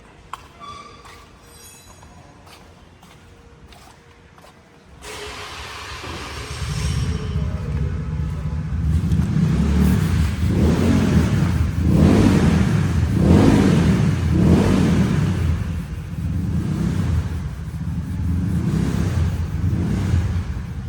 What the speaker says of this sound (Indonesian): ini mobil Ford teman-teman, modification ya. Menyala kali ini mesinnya.